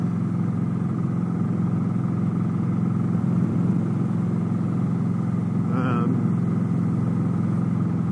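Steady mid-low engine drone from an Indian Scout Sixty motorcycle being ridden, a constant hum running without pause and loud throughout, with a short brighter whine partway through.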